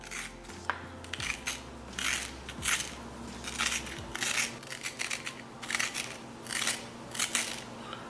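The skin of a bitter melon (karela) is scraped off in repeated short rasping strokes, close and crisp with an uneven rhythm, over a faint low hum and with no talking.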